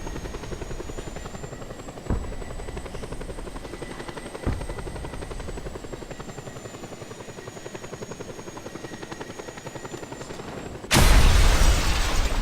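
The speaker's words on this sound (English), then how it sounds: "Crashing a helicopter into the crane only does half the crane's life." A helicopter in the video game Just Cause 2 keeps up a steady, loud rotor drone with a couple of sharp thumps, then crashes into a crane with a sudden, louder burst of noise near the end.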